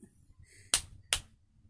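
Two sharp, separate hand claps ring out close by during a nursery sing-along with a baby boy, with quiet background between them.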